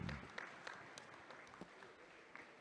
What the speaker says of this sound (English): we should celebrate with huge round of applause